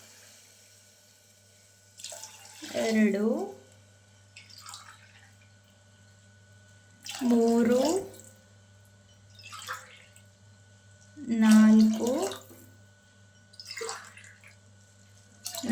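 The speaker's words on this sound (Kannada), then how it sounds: "ಗ್ಲಾಸಷ್ಟು ನೀರು ಹಾಕೋತಿದ್ದೀನಿ." Water from glasses poured into a cooking pot for jeera rice, four separate splashing pours spaced a few seconds apart, close by, with a voice counting softly between them.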